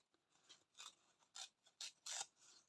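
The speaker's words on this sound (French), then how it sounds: "Là, on va couper ici à peu près." Scissors snipping through paper while trimming scrapbooking embellishments, a quiet series of short crisp cuts coming in uneven bursts, close up with no talking.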